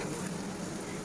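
Semolina rosh bora pitha fry in hot oil, a soft, steady sizzle heard close but faint over about a second, with no other sounds.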